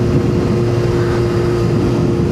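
Suzuki K4 GSX-R 750 motorcycle cruising at night on a hot summer evening, a steady loud engine drone with strong low tones and wind rush, constant throughout with no talk.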